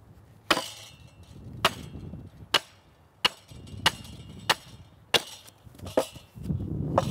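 Hand tools trimming a knot off a piece of wood for a joiner's mallet, with about nine sharp, separate chopping strikes at uneven intervals against quiet workshop background.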